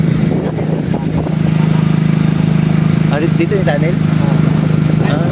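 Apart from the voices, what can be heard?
many motorcycles passing on the road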